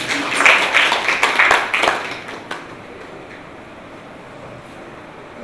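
Audience applause at an evening product management event, a burst of clapping for the first two seconds or so that quickly fades to quiet room tone.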